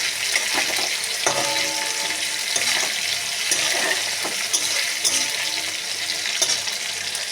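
Peas frying in a pan for ghugni make a steady close sizzle throughout, broken by occasional scrapes and knocks of stirring, with no one speaking.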